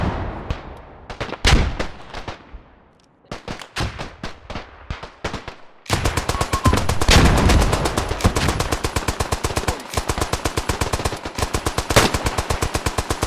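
Machine gun fire in the trench-warfare video game Beyond The Wire, first in short loud bursts with scattered distant gunshots, then a long sustained stream of rapid, evenly spaced shots, close and loud, with no voices.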